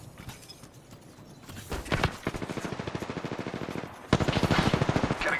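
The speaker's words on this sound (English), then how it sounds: "Getting shot at." Gunfire in the shooter game Apex Legends: rapid automatic bursts of evenly spaced shots, a short burst first, then a sustained volley, and after a brief gap a louder close burst, with no talk over it.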